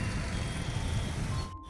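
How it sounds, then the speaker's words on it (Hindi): Road traffic idles at a signal in Jaipur, a dense low rumble of engines with a steady hum, fading out at the end. "सामने ट्रैफिक पूरा इस सिग्नल पे।"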